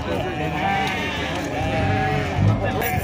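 Sheep bleat repeatedly at a goat and sheep livestock fair in Sumé, Brazil, a wavering, nasal bleating mixed with other animals and a busy crowd, while people talk nearby.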